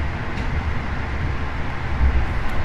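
Steady rumble of the KA Taksaka Siang long-distance train on the Jogja–Jakarta run heard from inside, a continuous low rolling roar at moderate speed with a slight swell near the end, no talking.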